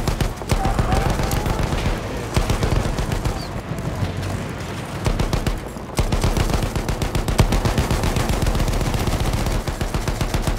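A tank in the World War I shooter Battlefield 1 fires rapid bursts of machine-gun fire over a rumbling engine, loud and close, with a brief pause in the middle before the clatter resumes.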